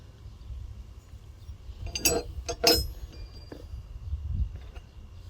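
Bonney cold chisels clink against each other as they are handled, two sharp metallic taps close together followed by faint rattling against a quiet room background.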